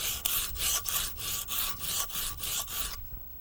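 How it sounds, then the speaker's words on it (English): Knife blade being ground thin on a rough cinder block, a rhythmic series of about eight harsh rasping strokes back and forth, loud and close, stopping abruptly, with no talking. "grind this blade a little bit thin."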